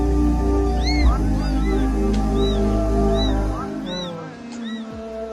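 Kittens mew repeatedly in short, high-pitched cries, several in quick succession, over a steady low droning rumble that drops away partway through.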